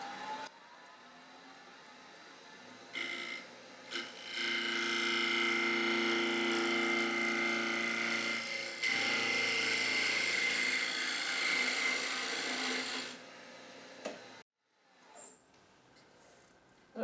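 A wood lathe turns the bottom of a tea light holder made from a 2x4. A steady whine rises after a few seconds, holds with a whirring cut, and then stops, leaving near silence.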